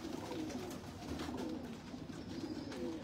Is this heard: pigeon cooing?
yes